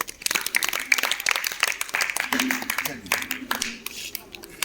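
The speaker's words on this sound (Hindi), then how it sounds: "ताली बजा दो" A class claps hands together in a short burst of rapid, uneven claps, mixed with voices talking over it.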